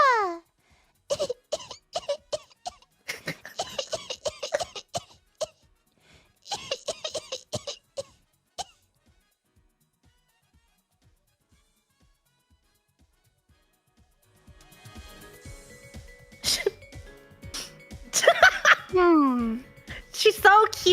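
Coughing from a baby character, several short high-pitched coughs and giggly sounds voiced by a person imitating a baby, mixed with speech and laughter in bursts separated by a long quiet stretch.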